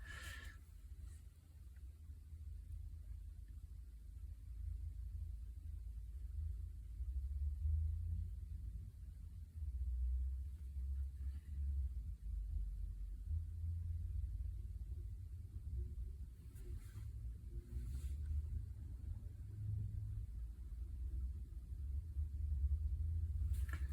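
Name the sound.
truck turning a corner outside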